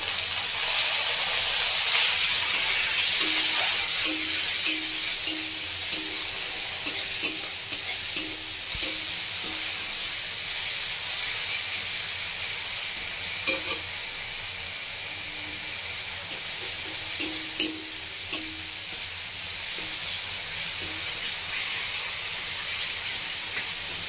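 Continuous hissing sizzle of ginger-garlic paste frying with onion in a pan, with occasional soft scraping of a stirring spoon and faint clicks.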